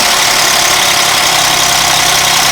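Audi A8 D3 engine idling in a garage, a steady close mechanical drone with dense broadband rattling and knocking throughout, loud and continuous with no speech.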